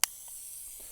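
The fuze mechanism of a TM-62 anti-tank mine gives a faint, steady buzz that runs for about a second, just after a sharp click as it is pressed.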